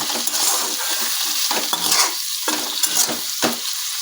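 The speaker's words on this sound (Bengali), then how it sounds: "নুনটা দিয়ে এখন ভালো করে এটাকে পেঁয়াজের সঙ্গে ভেজে নিচ্ছি" Tomato and onion frying with salt in a pan, a bright hissing sizzle broken by repeated scraping strokes of a spatula against the pan, close and fairly loud with no voices.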